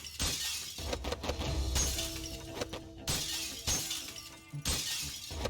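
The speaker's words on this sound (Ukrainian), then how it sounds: "Ми тут все розбиваємо" Glass display cases being smashed during a jewelry store heist in PayDay 2, several loud shattering crashes in bursts with tinkling debris between them, no talk.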